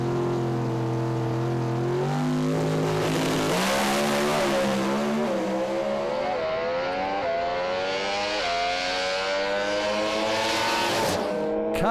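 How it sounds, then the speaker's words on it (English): A Pro Stock drag racing car makes a solo pass at Willowbank Raceway, its engine screaming loud and close through rapid gear changes as it climbs in pitch, then fades slightly toward the end. "Brian Purcell now moving forward in his Pro Stocker for Andergrove Storm Mackay on a solo pass."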